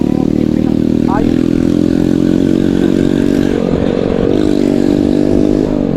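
A motorcycle engine drones steadily and loudly during a year-end group ride in Bikol, with the pitch shifting slightly as the rider changes speed.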